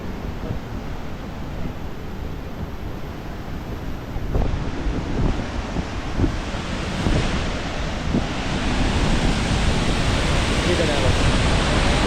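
Rushing mountain water in the Atlas Mountains of Morocco, a steady, loud broadband roar that builds slightly partway through, with some wind buffeting and no voices.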